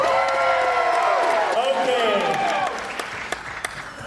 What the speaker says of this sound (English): Give this one a round of applause.